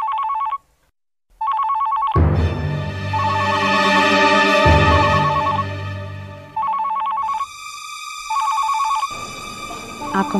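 A telephone rings loudly in repeated bursts of electronic trilling, briefly cut by a pause, while a swelling musical score rises and falls underneath.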